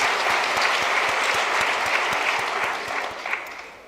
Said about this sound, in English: Let's get a round of applause for them.